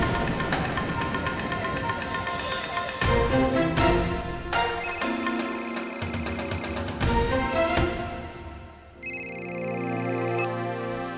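A telephone in a Marathi TV serial rings repeatedly with electronic tones over dramatic background music, and there is no talk.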